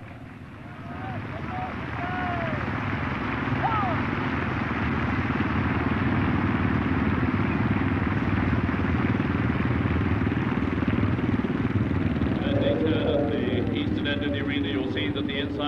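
Several military motorcycles ride slowly in a display formation, a continuous loud engine drone with a commentator talking over it and faint wind and crowd noise.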